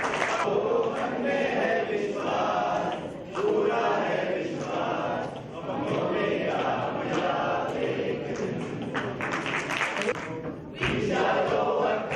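An audience applauds and cheers for Alpha at an advanced learning programme event, a continuous wash of crowd clapping and shouting with brief dips in level.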